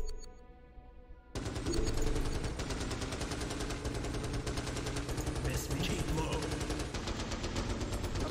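Sustained automatic gunfire from Starship Troopers: Terran Command, troops firing at a bug nest from maximum range on Brutal difficulty, a dense continuous barrage that starts abruptly after a quieter opening and stays loud throughout.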